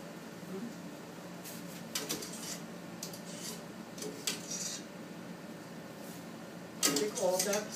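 Metal utensils clink and scrape against a pot as cooked cauliflower pasta is fished out of the water, in scattered light knocks over a faint steady background.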